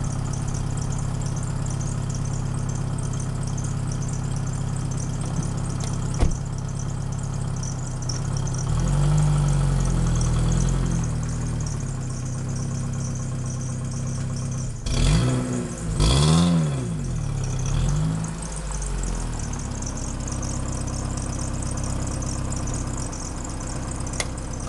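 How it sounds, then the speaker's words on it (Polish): A car engine idles with a steady low hum after being started, then revs briefly a couple of times midway before settling back to a smooth idle, close and continuous. "Auto zapaliło i możemy jechać nim."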